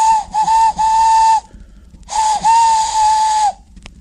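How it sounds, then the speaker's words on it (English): Steam locomotive whistle as the Queen's train arrives at the station: two loud, close blasts, a short triple toot then a longer sustained shriek, separated by a brief gap of hiss. "Everyone knew that whistle, and a mighty cheer went up as the Queen's train glided into the station."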